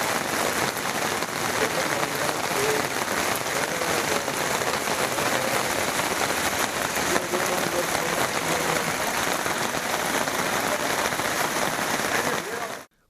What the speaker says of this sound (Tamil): குமரி மாவட்டம் தக்கலை சுற்றுவட்டார பகுதிகளில் கனமழை கொட்டியது